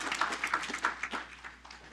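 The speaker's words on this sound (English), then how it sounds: "Give him a round of applause." Scattered, fairly faint clapping from a small audience at a city council meeting, individual claps audible in an uneven patter that thins out toward the end.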